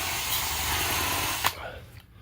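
A cordless drill runs steadily with a continuous whir, stopping abruptly partway through, fitted with an accessory for testing on a child's bike.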